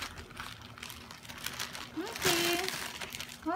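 Plastic delivery packaging crinkling and rustling in bursts as it is opened, close and fairly quiet, with an adult and someone talking throughout.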